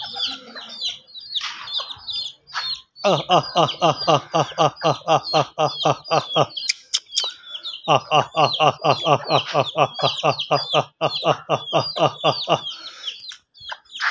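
Chickens cluck and chatter in long rhythmic bursts close by, with pigeons and birds chirping in the background and short pauses between runs.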